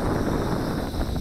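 Wind buffeting a microphone outdoors, a loud continuous low rumble and roar with no pauses, filling the whole moment without talk.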